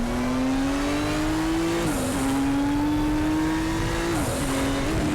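A touring classic race car in RaceRoom Racing Experience drives at Sonoma. A loud, steady engine drone climbs through the gears, and two upshifts cut in sharply, around two and four seconds in.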